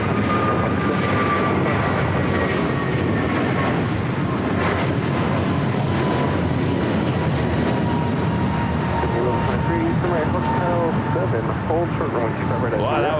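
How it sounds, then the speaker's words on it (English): McDonnell Douglas MD-80 airliner passing at LAX, a loud, steady jet roar that holds throughout with a thin whine above it, while a person talks over the noise. "Wow, that was quite the MD-80."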